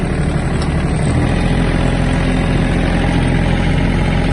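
A Yanmar RS-24 Japanese mini tractor engine runs steadily close by, a constant low rumbling drone with no breaks for the whole stretch.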